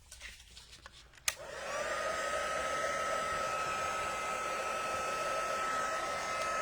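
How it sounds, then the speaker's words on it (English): A heat tool blows hot air to melt white embossing powder on cardstock, starting with a click and then running as a steady, even whine and rush, close and alone. "What you can do is just heat on the other side as well if you find your cardstock is getting really bent."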